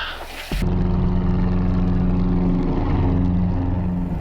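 A single-engine light aircraft taxis onto runway 03 in Scotland or Iceland, its engine and propeller droning as a steady, loud, close rumble with a low harmonic hum throughout, after a brief quieter start.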